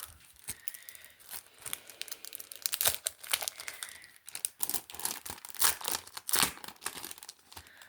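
Sheet of stickers handled and crinkled at close range, with soft uneven rustles and sharper crackling bursts through the whole stretch, fairly quiet and without talk.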